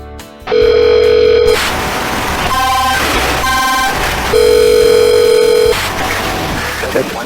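Electronic telephone tones sound in bursts: a steady beep, a pair of short dial-like tones, then another long tone over a background hum.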